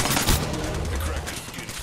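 Rapid gunfire in a shooter video game, a dense stream of sharp bursts, with a voice talking over it.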